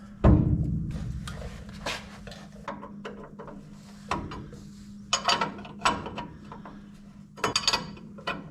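A hand ratchet clicks in short bursts while a bolt is tightened on a car, with a loud knock at the start and scattered metallic clinks and pauses at close range.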